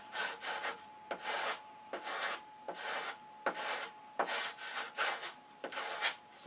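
Wood being sanded by hand in repeated back-and-forth rasping strokes, about two per second, close and steady, with a faint constant hum underneath.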